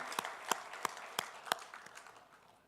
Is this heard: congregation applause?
yes